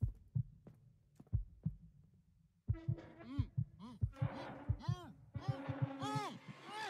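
Heartbeat sound effect thumping in a steady pulse within a music track, alone at first, then continuing under layered, swooping electronic music and vocals that build in the second half.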